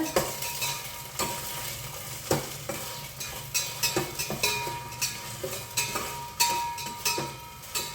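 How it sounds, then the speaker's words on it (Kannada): Garlic ginger paste sizzles in a hot pan for chicken biryani, a continuous frying hiss broken by repeated scraping strokes of a spoon stirring it, close and steady. "ಈಗ ಬೆಳ್ಳುಳ್ಳಿ ಶುಂಠಿ ಪೇಸ್ಟ್ ಹಾಕಿದೆ"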